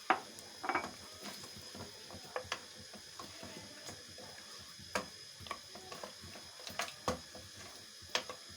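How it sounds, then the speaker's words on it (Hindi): Mutton and spinach in a pot with a quarter cup of oil, cooking down for palak gosht: quiet, irregular clicks and soft scraping ticks spread through the clip, with no voices. "अब इसमें मैं ये 1/4 कप ऑयल डाल रही हूँ और इसको भी हम अच्छे से अब भून लेते हैं"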